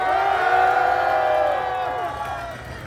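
A crowd at a protest rally held after an outdoor mass in front of the Constitutional Court cheers and whoops, a sustained roar that slowly fades over a few seconds.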